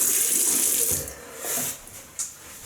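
Water from a tap runs to rinse off shaving cream, a close hiss of flowing water that swells and dips with a few splashy bursts, no voices.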